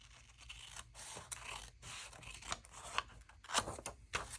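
Scissors snipping through paper edges for a craft project, a series of close, crisp cuts and rustles with brief pauses between strokes.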